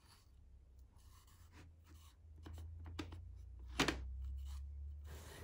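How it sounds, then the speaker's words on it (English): A clean rag rubs IKEA worktop oil into solid teak wood, making faint, close, soft swishing strokes in an uneven rhythm, with no voices. "The final finish was to apply a worktop oil I got from IKEA a while ago with a clean rag on both sides"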